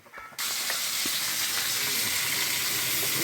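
Pointed gourd peel paste fries in a wok, starting from a quiet moment before a sudden loud sizzle rises and holds as a dense, steady hiss close by, with faint spatters throughout.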